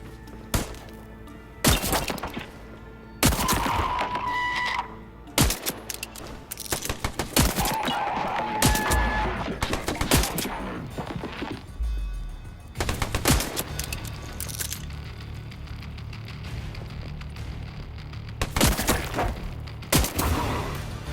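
Pistol gunfire in Shadow of the Tomb Raider, sharp, loud shots fired singly and in quick clusters, with thuds and impacts between them and game ambience underneath.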